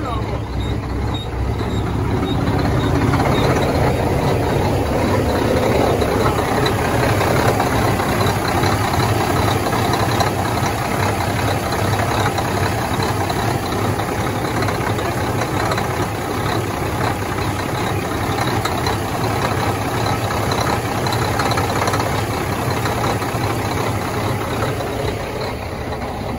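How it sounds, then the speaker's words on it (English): A truck at an auction inspection idles roughly and runs badly, as if trying to cut off. The engine rumbles loud and continuous, with uneven pulsing and a faint high whine throughout. "It's a bad truck. Sound like it's trying to cut off."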